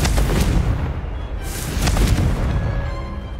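Confringo blast spell in a video game, a loud sustained rumbling explosion with a couple of sharper bursts layered on top, heavy low end throughout and no voices.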